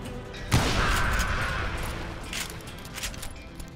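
Gunfire in the Western shooter game Call of Juarez: Gunslinger: one sharp, loud shot cracks early, followed by a lingering rumble and scattered fainter pops against a steady background din.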